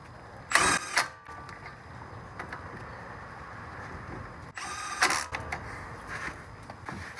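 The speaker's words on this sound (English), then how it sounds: "I'm just going to snug it on. This Milwaukee has an auto setting" A Milwaukee power tool snugs the brake caliper bracket bolts on a Honda Pilot, two short, loud whirring ratchet bursts separated by a quiet pause, close by.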